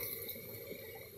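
A small spring fountain of water in a rural forest area flows steadily in a continuous, soft trickle with no talk over it.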